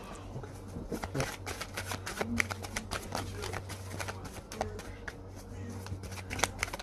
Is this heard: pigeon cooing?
no